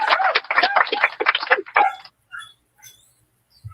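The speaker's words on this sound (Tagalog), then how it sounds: "Akala ko yung guest ko tumatahol. Aso yung narinig ko kagad eh." A dog barks outside in a rapid string of sharp, high yips for about two seconds, then falls quiet apart from a few faint ticks.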